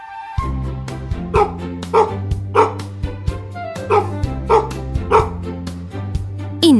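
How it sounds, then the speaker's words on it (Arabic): Dog barks repeatedly at a steady pace, roughly one bark every half second, sounding over a continuous low musical backing during a children's farm-animal sound guessing game. "إنه الكلب."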